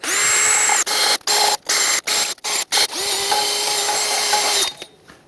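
A power drill fitted with a wire wheel whines in several bursts on Hyundai Santa Fe front brake parts, starting and stopping in quick pulses, then runs steadily before winding down; loud and close.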